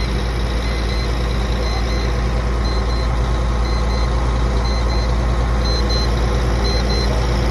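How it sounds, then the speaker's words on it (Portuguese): A 2000 Volvo NH 380 truck engine runs at a steady idle, a loud, constant low rumble that continues without a break. A faint, regular high beeping repeats on top of it. "essa é pra você que tava perguntando se o caminhão tá funcionando"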